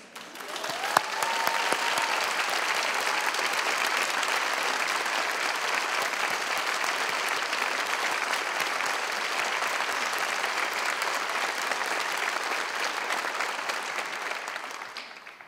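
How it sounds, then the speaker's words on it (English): A large crowd at a Juno 75 remembrance event claps loudly and continuously for about fifteen seconds, a dense, even wall of applause that swells quickly and tapers off at the end. "if we clap loud enough, I think he's going to hear us"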